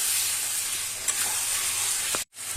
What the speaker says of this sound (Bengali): আলুটা দিয়ে আমি একটু নেড়ে নিলাম